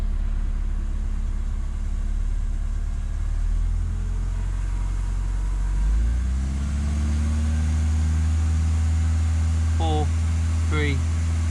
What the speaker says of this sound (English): I'm going to give it some gas just to even it out.